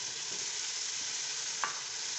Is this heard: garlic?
yes